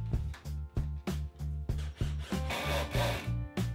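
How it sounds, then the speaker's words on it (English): A drill bores half-inch holes into sapele wood to be capped with dowels for a countertop. It gives close, loud, rhythmic bursts of grinding and chatter that repeat steadily with brief pauses, over a steady motor hum. "Just drilling some half-inch holes so it can be capped with dowels later."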